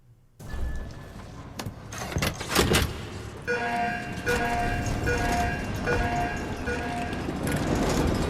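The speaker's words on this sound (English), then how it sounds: "I love these carriage rides." A carriage ride in Dishonored 2 rolls along with a steady, rumbling vehicle drone and rattling, clattering movement, mechanical hum and tones building over several seconds after a sudden start.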